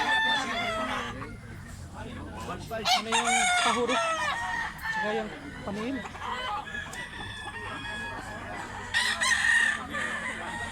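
A big 14-month-old gamecock of Milsims bloodline crows repeatedly nearby at a rural spot in Mantalungon, Barili, Cebu, among clucking fowl, while people talk in Filipino in the background.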